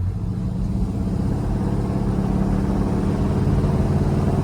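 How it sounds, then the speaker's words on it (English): A 1972 Oldsmobile Cutlass engine drones steadily from inside the car as it drives, a low, even rumble with no talking. "we're gonna let you hear a little bit of the car more than just me"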